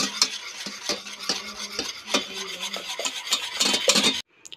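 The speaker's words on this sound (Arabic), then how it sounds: "غنزيدو كاس السنيدة، غنضربو مزيان." A whisk beating cake batter in a bowl after sugar has been added, with a steady fast scraping rhythm that is close and loud, stopping abruptly near the end.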